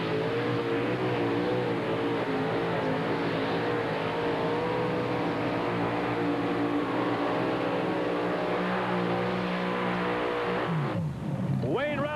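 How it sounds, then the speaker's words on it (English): A T-Bucket hot rod with a 541 cubic inch engine runs at a two-wheel-drive pull in Chapel Hill, Tennessee, holding a loud, sustained, wavering engine drone. The drone drops away abruptly near the end. "This T-Bucket can really move."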